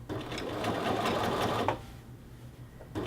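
Sewing machine stitching around the collar band of a men's shirt, a fast continuous whir of needle strokes for about a second and a half, then stopping, with a faint click near the end.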